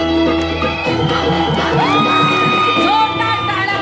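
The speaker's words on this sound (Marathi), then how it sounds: "जोरदार टाळ्या होऊन जाऊ दे" Women's group performing Mangalagaur games at Nerul, a lively crowd whooping and shouting in cheers, with bright yelled calls rising over a dense, loud background of voices.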